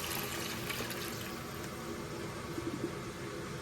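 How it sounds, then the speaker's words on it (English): Chicken broth, the liquid the chicken was boiled in, being poured into a cooking pot in a home kitchen, giving a steady close-up stream of splashing, gurgling liquid for a few seconds without any speech. "I'm just gonna pour my 2 cups of the juice what I boiled the chicken in"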